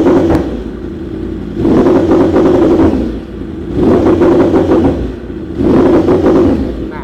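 Yamaha R1M motorcycle engine bouncing off its rev limiter, three loud near blips of throttle each holding a buzzing, clattering rasp before dropping back to idle.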